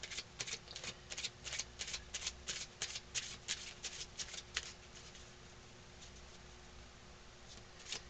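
Tarot cards for past-life readings being shuffled by hand, a steady run of soft riffling flicks and card slaps that taper toward a quieter rustle, close and alone with a faint steady hum underneath.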